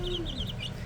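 Chickens on a small farm give soft, close clucks and warbling coos in a brief, continuous burst, with a low murmur of other birds underneath.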